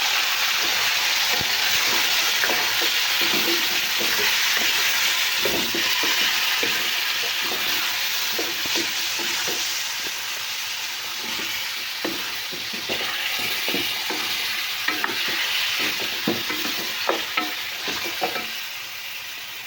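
Mutton pieces frying in hot oil with garlic for a bhindi gosht curry, sizzling steadily throughout while a spoon stirs and scrapes the pan in repeated clattering strokes, close and fairly loud.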